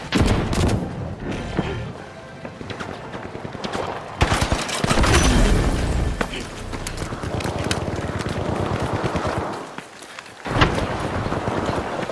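A pyro grenade goes off in the shooter game The Finals amid a loud, chaotic firefight, dense bursts of rapid gunfire and crackling blasts filling the whole stretch, close and harsh with a brief lull near the end.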